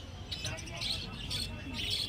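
Caged birds, including budgerigars, chirp at the Garia bird market in a busy, continuous chorus of faint high tweets over a steady background hum.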